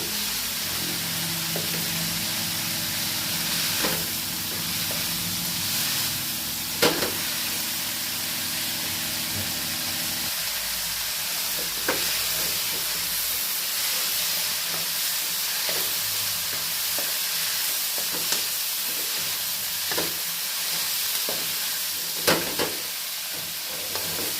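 Drumstick leaves sautéing in a pan for chutney, a long, even sizzle with scattered spatula scrapes and stirring clicks throughout.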